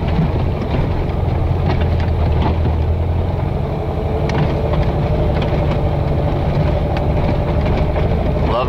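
An off-road vehicle on big tires aired down to 15 psi crawls over a rough, wet trail. A continuous engine rumble runs under frequent knocks and rattles from the bumpy ground.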